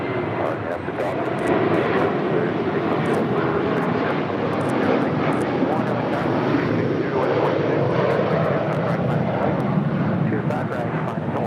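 A JetBlue airliner in New York–New Jersey livery takes off from runway 25 right at LAX, its jet engines making a steady, loud, broadband roar that holds throughout, with radio chatter faintly over it.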